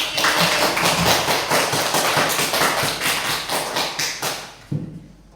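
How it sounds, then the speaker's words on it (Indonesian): A classroom of students applauds a classmate during a sixth-grade civics lesson, a dense burst of many hands clapping steadily for several seconds, then tapering off with a final louder clap. "Ya, tepuk tangan untuk Uti."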